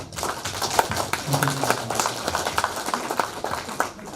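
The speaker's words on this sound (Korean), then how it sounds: "박수 예. 한번." An audience applauds at a by-election candidates' debate, a brisk, fairly close round of clapping from a modest crowd, continuous and even for a few seconds with murmuring beneath it.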